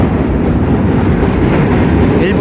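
A New York subway train passes close by in winter, a loud continuous rumbling roar with a faint rhythmic rail clatter running under it.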